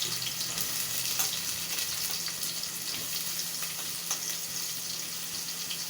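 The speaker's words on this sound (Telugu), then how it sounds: "ఇప్పుడు కట్ చేసి పెట్టుకున్న ఉల్లిపాయని ఆయిల్లో ఫ్రై చేసుకోవాలి" Chopped onions fry in groundnut oil for a mutton curry, giving a steady, dense sizzle and crackle throughout, close and even, with no talking.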